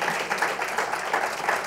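An audience applauds in a hall, a dense, steady wash of many hands clapping that continues throughout the short stretch without pause.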